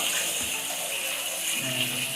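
Hot water runs steadily from a tap into a bathtub in a small Japanese home, a continuous close rushing gush that holds unbroken for the whole stretch.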